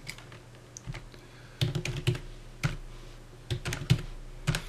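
Close, crisp clacks from a computer keyboard come in short irregular clusters with brief pauses, with no voice over them.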